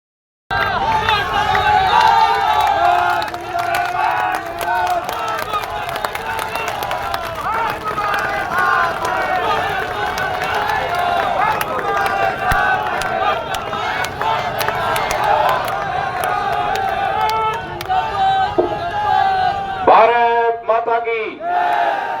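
A large crowd at a political rally applauds and shouts, a dense sustained roar of cheering and clapping with voices over it, rising into chanting near the end.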